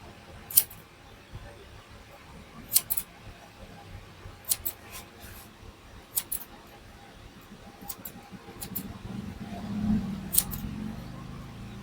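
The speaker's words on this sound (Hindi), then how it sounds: "अब ये उल्टे हाथ से बाल मेरा कट रहा, देखो इस तरीके से" Scissors snip hair in short, crisp cuts worked with the left hand during a barber's high-fade haircut, about six separate snips spaced a second or two apart over a low background hum.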